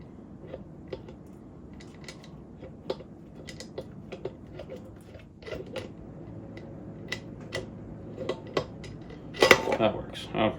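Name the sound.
oil pump chain being walked off sprocket, OM606 engine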